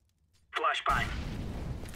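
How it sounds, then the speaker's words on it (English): In CS:GO, a short voice callout comes just before a flashbang grenade bursts, followed by a sustained loud hissing rush that fills the rest of the moment. "Throwing flashbang."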